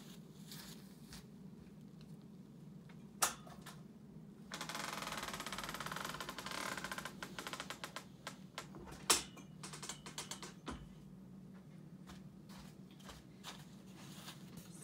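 A long-arm quilting machine basting a quilt, heard as a steady low mechanical hum with a fast stitching patter that swells for a few seconds in the middle, plus a couple of sharp clicks.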